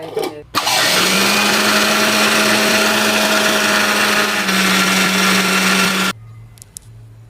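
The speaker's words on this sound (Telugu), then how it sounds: "ఫ్రెండ్స్ మిక్స్ అయితే పట్టేసినాం కదా" A mixer grinder whirs loudly and steadily for about five seconds blending six eggs, its pitch shifting slightly near the end before it shuts off abruptly.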